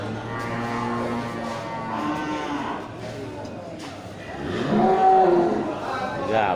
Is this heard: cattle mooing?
yes